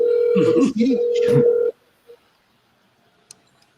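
A telephone dial tone holds steady for under two seconds while a voice speaks over it. It then cuts off into near silence broken by a couple of small clicks.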